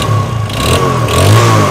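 A motorcycle engine is revved hard with the throttle during an engine flush, giving a loud, steady mechanical drone that swells and climbs slightly in the second half.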